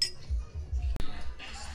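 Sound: glasses clinking in a toast

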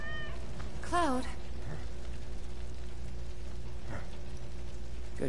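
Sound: cat meowing in video game Final Fantasy VII Remake

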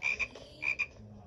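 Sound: frog croaking

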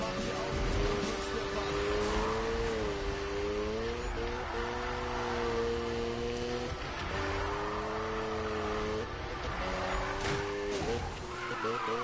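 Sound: Mazda RX-7 drifting in Need for Speed video game

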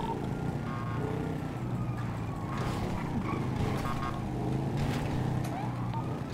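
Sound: vehicle traffic in a role-play video game

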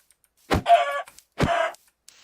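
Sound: chickens clucking in Minecraft video game

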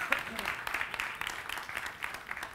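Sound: applause for a South African winner

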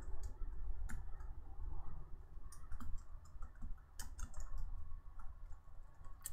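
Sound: typing on computer keyboard

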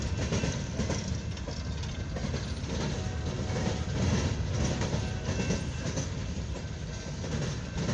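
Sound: CSX empty coal hopper train passing

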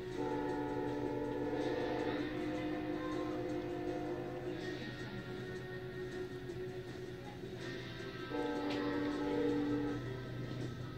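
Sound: freight train passing

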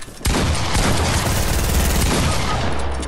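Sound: gunshots in a video game

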